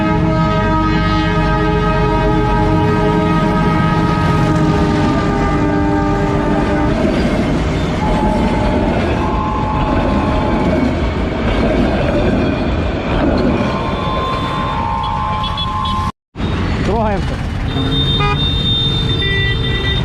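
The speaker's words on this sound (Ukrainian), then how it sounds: "О, поїзд проїжджає, народ." A train passes a railway crossing in India, Junagadh area, with a loud sustained horn blast, rumbling wheels and clattering wagons close by, continuous for twenty seconds.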